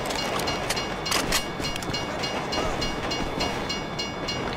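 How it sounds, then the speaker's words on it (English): A train rolling past in the video game GTA V, a loud steady rumbling roar with repeated clacking bursts early on, filling the scene without any talk. "If you were local, you'd know the train comes by right now!"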